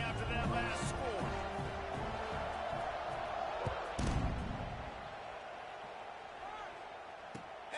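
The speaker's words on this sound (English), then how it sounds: "this crowd is buzzing after that last score" A football stadium crowd buzzes after a touchdown and extra point at an Oklahoma State game, a dense steady roar with scattered thumps, while a commentator talks over it.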